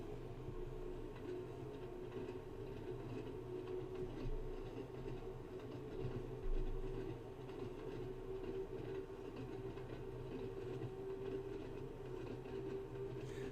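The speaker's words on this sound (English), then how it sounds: "I've now shut off the power to allow the train to coast." An Isle of Wight electric train in Train Sim World 2 coasts uphill on a steep gradient with power shut off, giving a steady low rumble and faint whine that runs continuously and quietly throughout.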